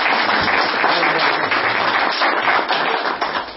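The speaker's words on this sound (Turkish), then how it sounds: "Bir alkış isteriz sizden." Sustained crowd applause, dense and steady clapping from many hands that fills the whole stretch, tapering slightly at the end.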